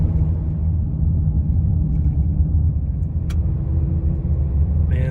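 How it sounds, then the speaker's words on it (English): A lifted 2020 RAM 3500 diesel pickup accelerates with a heavy, deep engine rumble and road roar, heard close and loud and sustained throughout, with a brief sharp click near the end. "You put your foot down and this truck will go."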